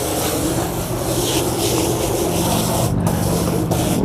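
Water sprays steadily from a hose, rinsing a rubber rear cargo mat for a Jeep Wrangler JL outdoors, a continuous close hiss with brief breaks.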